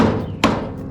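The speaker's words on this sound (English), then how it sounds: "I basically hit it with a hammer like this" A single sharp hammer strike lands on a rusted front clip bolt of a 1968 Chevy C10, one quick metallic knock standing out over a faint background.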